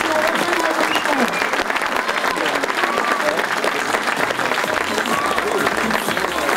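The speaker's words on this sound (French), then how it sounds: "On applaudit de nouveau ce podium" An audience at the Plaines et Vallées 2017 SSV podium ceremony claps loudly and continuously, dense sustained applause from a large outdoor crowd with scattered voices mixed in.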